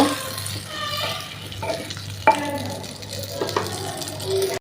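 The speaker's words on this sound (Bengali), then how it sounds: "সিম আলুটা দিয়ে দিব, এটা দিয়ে আবার কষায় নিব" Flat beans and potato are tossed into hot, turmeric-spiced oil and stirred for frying, with a steady close sizzle, scraping spatula strokes and one sharp metallic clank partway through.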